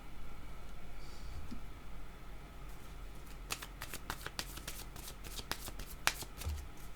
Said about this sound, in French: Ah, attendez, ces cartes sont tombées.